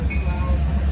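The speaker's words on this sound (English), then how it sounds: "such a long train." Long train passing, a loud, continuous low rumble with a faint high squeal of the rails, heard close by in a yard for a short moment.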